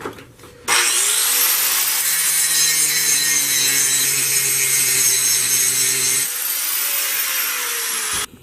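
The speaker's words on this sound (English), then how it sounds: "Now I gotta nip these two tack welds and separate the plates" A power tool cuts through tack welds to separate shaped steel plates for a mini dragon slayer sword, giving a loud, continuous grinding whine for several seconds that stops abruptly.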